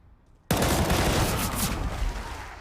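Counter-Strike gunfire with a grenade on the Overpass map during a DreamHack Masters Malmö semi-final, Astralis vs Fnatic: a dense, loud burst of shots that starts abruptly and rattles on without pause, with no voices over it.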